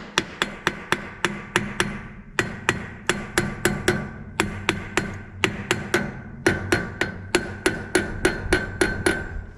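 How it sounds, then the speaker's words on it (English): A wheel bearing cap is tapped back onto the hub with a hammer, a long run of sharp metallic taps in quick bursts of three to five, close and loud with no talk. "All right, tap the cap back on."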